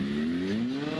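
Motorcycle engine held at high revs for a trackside noise check at the Circuit d'Albi, a loud steady drone with pitch creeping slowly upward, close and continuous throughout.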